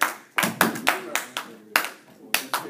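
Sparse, separate claps at a math-themed magic show, about ten sharp hand claps in an uneven rhythm, close and distinct, with a faint voice between them.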